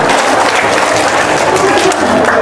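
Applause from a studio audience on an Indonesian comedy talk show, a dense, steady wash of clapping filling the whole stretch with crowd noise beneath.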